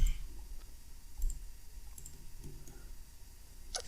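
Faint, sparse computer mouse clicks sound close by against a quiet background hum while lines are drawn in FreeCAD.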